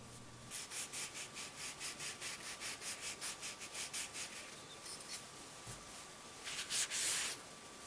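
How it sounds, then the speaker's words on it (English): Old paint on a 1940s Delta jointer being wet-sanded by hand with fresh 800 grit sandpaper: a steady series of rhythmic back-and-forth rubbing strokes, fairly close, then a pause and a few quicker scrubbing passes near the end. "I'm using a brand new piece of 800 grit sandpaper."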